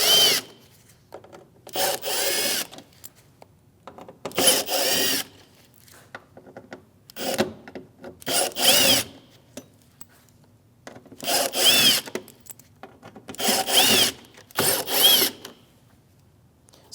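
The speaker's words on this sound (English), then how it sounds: "So we're going to take these top screws off going across, and this is a T15, it's a Torx bit." A power driver spins T15 Torx screws out of the plastic trim on a Chevrolet Malibu front bumper, the 2016–2025 generation. It comes in repeated whirring bursts of one to two seconds with short pauses between them, up close and with no talking.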